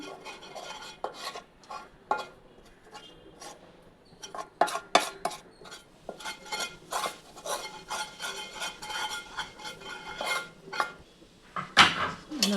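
Hot rice flour dough being stirred and mixed by hand in a metal pot or bowl, with repeated scraping, clinking and rubbing strokes, close and fairly loud, in a steady uneven rhythm with no talking.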